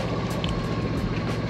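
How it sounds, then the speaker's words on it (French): Inboard engine of a 9-metre sailboat motoring at sea at night under bare sails, a steady loud drone with churning water and wind, no voices. "On a laissé les voiles, on a lancé le moteur."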